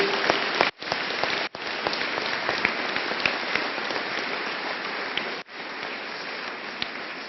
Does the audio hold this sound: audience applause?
yes